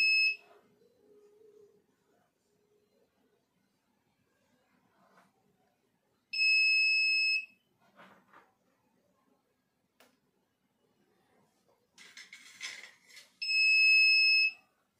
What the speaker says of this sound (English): the buzzer will be triggered on